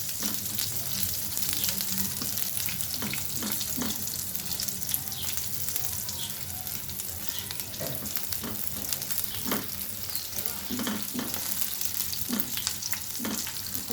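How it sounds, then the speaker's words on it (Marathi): Garlic cloves, lentils and three red chillies fry in a pan with a continuous close sizzle, broken by frequent light scraping stirs throughout. "आपल्याला छान अशी डाळी आणि याच्यासोबत फ्राय करून घ्यायचं आहे।"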